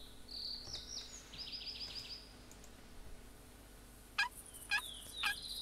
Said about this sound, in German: da hören wir aber schon den nächsten. Und der gackert da oben.